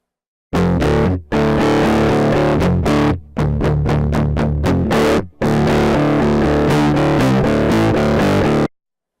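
Heavily overdriven, crunchy distorted electric guitar, distorted by overdriving a mixing console's input and output, plays loud chords and rapid choppy strums in bursts separated by brief silences.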